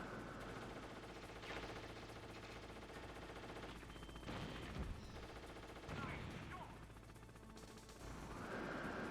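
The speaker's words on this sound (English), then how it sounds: "That is why the audio cue is so helpful there of the bullets firing" Gunfire in the PC version of Metal Gear Solid, during a boss fight: repeated bursts of bullets crack and rattle over a constant game background hum, with a few louder volleys.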